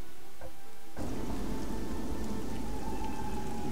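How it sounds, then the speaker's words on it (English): Rain and storm ambience in the video game Child of Light, a dense steady downpour that starts abruptly about a second in and continues loud and unbroken, with no talking. "Very dark and eerie and stormy."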